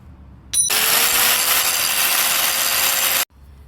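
A hand tool cuts threads onto a metal rod for a John Deere riding lawn mower front wheel fix, making a single loud, steady rasping grind of about three seconds that starts and stops abruptly.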